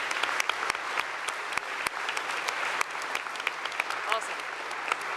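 Convention audience at a voice-actor Q&A panel applauding, sustained clapping with sharp individual claps standing out, moderately loud and continuous, with a voice speaking briefly over it.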